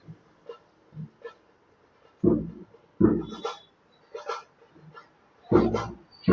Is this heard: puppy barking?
yes